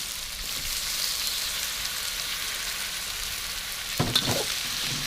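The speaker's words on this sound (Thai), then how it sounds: "สามพริกกระเทียมกับหน่อหม่ลงไปครับ" Bamboo shoots stir-fried with chili and garlic sizzle steadily in a hot pan, a continuous close frying hiss with a brief clatter of stirring near the end.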